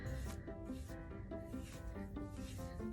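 A comb drawn through curly hair, repeated soft scraping strokes at a quick, fairly regular pace, close and faint with no talk over them.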